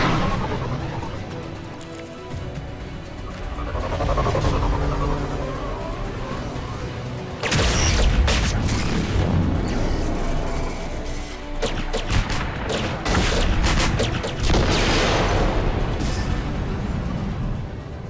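Heavy explosions and gunfire from bombing a tower in the video game Mass Effect 3: a rumbling battle din breaks into loud, close blasts around three separate moments, with no voices.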